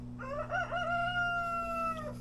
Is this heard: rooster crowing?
yes